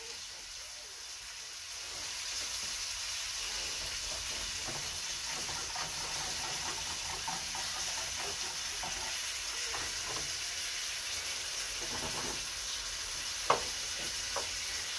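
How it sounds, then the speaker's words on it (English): Meat sears in a hot pan for a Cajun surf and turf, giving a steady, even sizzle and hiss that holds throughout, with faint crackles and one sharp pop near the end. "So I want to do about 2 minutes on this side, then I'll do 30 seconds on the sides of the meat, so I'll lock in that sear."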